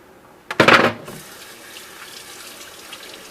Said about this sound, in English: Now, rinse it out, put some water in there, and clean off your surface for the next stage.